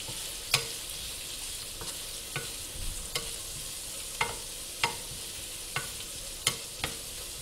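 Mushrooms, garlic and green pepper frying in a pan with a steady soft sizzle, while a utensil stirs them in sharp scraping taps at irregular intervals, fairly close and with no talking.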